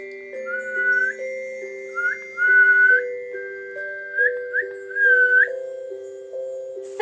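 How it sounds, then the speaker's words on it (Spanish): A person whistling a slow, clear melody in a quiet room, with several sustained notes and short phrases separated by brief pauses, heard close and alone. "Se llama silbar o silbido."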